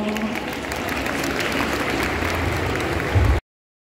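An audience at a Paris cosplay contest applauds a cosplayer with steady, dense clapping and some crowd murmur, ending abruptly after a few seconds.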